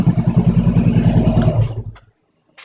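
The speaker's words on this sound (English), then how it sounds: "I'll turn it off right now, maybe so you can hear my exhaust" A Honda CB500F motorcycle idles with a steady, pulsing exhaust putter close by, then shuts off about two seconds in, dropping to near silence.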